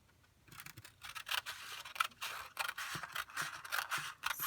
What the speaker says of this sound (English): let's cut off some of this excess Tyvek